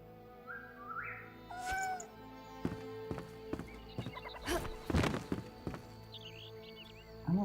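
A cat in Enshrouded meowing in several short, clear cries amid clattering game sounds and scattered thuds.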